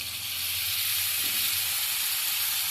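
Ground spice paste hits hot oil in a pan, sending out a dense, steady sizzle with broad hissing spatter that holds loud and close throughout, with no voices.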